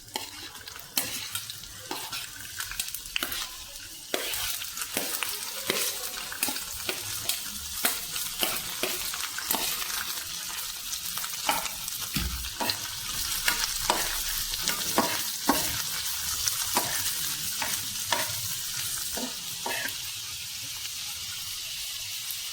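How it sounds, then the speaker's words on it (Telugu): Onions frying in hot oil for a tomato egg tawa fry, a steady close sizzle broken by frequent sharp scrapes and clacks of a spoon stirring through the pan, with no talking. "సో ఇప్పుడు నేను ఆనియన్స్ని వేస్తున్నాను."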